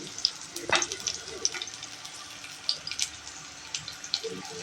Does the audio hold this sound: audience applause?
no